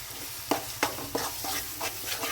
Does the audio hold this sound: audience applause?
no